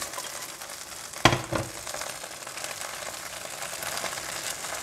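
Teriyaki sauce sizzles steadily on hot grilled saba fish, a close, continuous frying hiss with a sharp tap near the start as the glaze goes on, with no talking.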